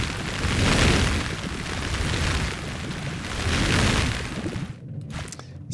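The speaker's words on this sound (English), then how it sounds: "Spaceship." Synthesized spaceship sound effect from Tsugi DSP sound design software: a loud, roaring whooshing rumble that swells and recedes in two broad waves before breaking into sparse crackles at the end.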